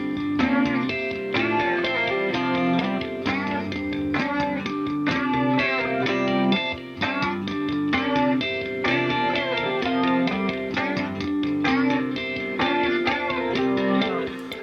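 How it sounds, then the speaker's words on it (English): Dense, steady electric guitar noodling from playback of a home song recording, part of it panned to the right side, running continuously at full level with slightly distorted strummed and picked notes and no talking. "and then I did some noodling on the right side."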